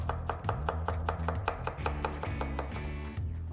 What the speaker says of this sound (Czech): teď ji dokrájím v podstatě stejně jako ten tatarák